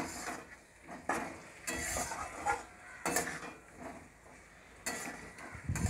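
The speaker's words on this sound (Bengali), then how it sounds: "নুনটা দিয়ে আলুটা একটু আমি নেড়ে নেব।" Potatoes with spices and salt stirred in a pan for a Bengali rohu fish curry, giving irregular scraping and clinking strokes over a low sizzle, fairly close and quiet, with no talking.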